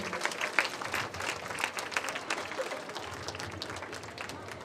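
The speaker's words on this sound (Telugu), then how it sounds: "అందరూ చప్పట్లతో ఆయన ఆహ్వానించండి" An audience at a school parent-teacher meeting claps to welcome a guest onto the stage: dense, steady applause that fades slightly toward the end.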